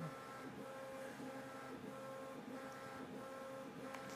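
A 3D printer running fast on Klipper firmware, giving a steady whirring buzz with rhythmic pulses as its stepper motors move quickly back and forth, close and continuous.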